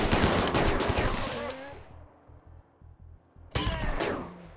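Gunfire crackles through a firefight in RimWorld, loud dense bursts up front, then a quieter stretch of rapid, evenly spaced shots before another loud burst near the end.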